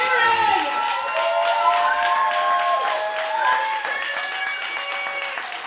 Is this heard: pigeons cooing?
no